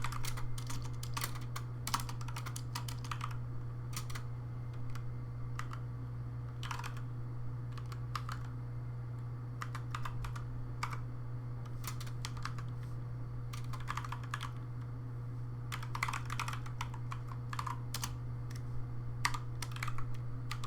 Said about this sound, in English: So we're going to type this in.